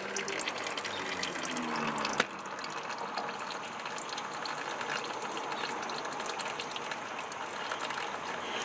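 Engine oil drains from the dry sump of a Corvette C7 Stingray Z51 during an oil change, a steady close trickling and splashing stream after a brief knock near the start.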